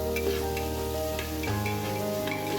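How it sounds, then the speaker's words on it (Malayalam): Onions with salt sautéing in hot oil for a vegetable kurma, a steady close sizzle and crackle with no break and no voices. "ഉള്ളി ഇട്ടതിന് ശേഷം ഒരു പാകത്തിന് ഉപ്പും കൂടി ചേർത്ത് കൊടുക്കുക കേട്ടോ. എന്നിട്ട് നന്നായി വഴറ്റി കൊടുക്കുക കേട്ടോ."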